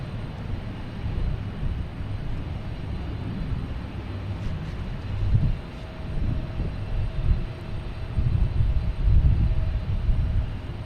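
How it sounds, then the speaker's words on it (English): An American Airlines A321neo airliner flies in to land from Charlotte at Boston Logan, a steady distant jet roar that swells a little toward the end, with no talk. "American Airlines coming in from Charlotte"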